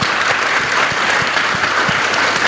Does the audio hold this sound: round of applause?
yes